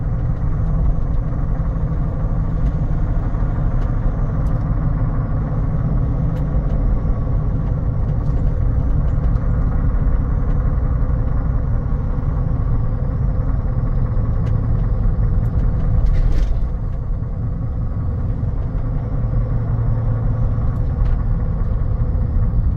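Inside a 2016 Jeep Wrangler Unlimited on a test drive, a continuous low road rumble and engine drone fill the cabin, with noisy tires humming steadily and a faint clunk midway, and no talk.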